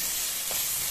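Curry leaves and coriander frying in a pan: a brief, steady, close sizzle with one quick stirring scrape partway through.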